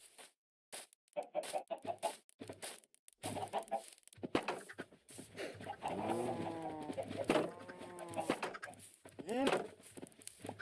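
Chickens cluck and coo in a Minecraft survival world, the bird calls coming in clustered bursts over intermittent background noise, fairly quiet.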